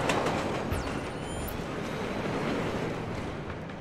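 Train rolling along a rail yard in Splinter Cell Blacklist, a steady loud rumble and rattle of wagons on track with faint high screeches, continuous throughout.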